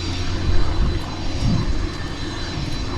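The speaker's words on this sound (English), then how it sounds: "by Michael Llompart, who has just recently completed his first solo in a Cessna 172 airplane." A Cessna 172 airplane engine drones loudly and steadily at close range after a student pilot's first solo training flight, a dense, continuous rumble with slight swells in level.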